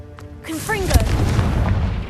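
A Confringo blast spell explodes in the Hogwarts Legacy video game: a brief whooshing, chirping cast leads into a single deep, close boom that rumbles on for over a second, with a voice briefly heard.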